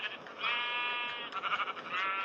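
Video game sheep bleat in a quick series of wavering, nasal cries, moderately loud and clear, with no talk over them.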